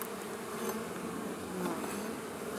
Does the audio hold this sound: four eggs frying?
no